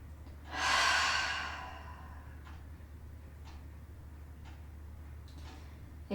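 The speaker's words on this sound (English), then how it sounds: "make this the biggest breath you've taken all day" A deep, drawn-out breath in during a yoga session, loud and near, swelling and then easing away over about two seconds, followed by a few faint soft breaths against quiet room hiss.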